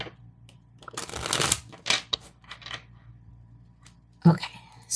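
A deck of tarot cards being shuffled up close in a quiet room, several quick riffling bursts and soft flicks separated by short pauses, with faint low talk beneath.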